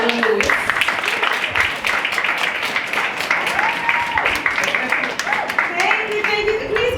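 Audience applause at a hair, beauty and health expo, a steady wash of clapping filling the room for several seconds with crowd voices mixed underneath.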